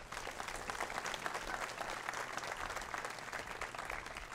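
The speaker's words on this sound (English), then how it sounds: "So please give them a round of applause." Steady audience applause at a military academy commencement ceremony, dense clapping sustained throughout at a moderate distance with no voices on top.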